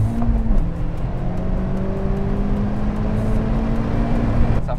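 A Honda Civic Type R FK8 braking hard on a test drive: steady loud engine and road drone from inside the car with a falling tone as speed drops, no clear talk over it.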